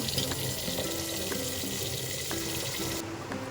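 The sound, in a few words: tap water running while washing rice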